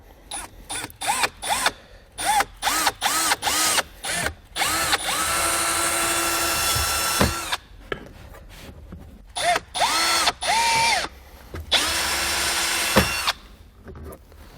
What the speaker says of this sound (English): We're going to come back with our 5/16 inch drill bit. We're going to drill them out.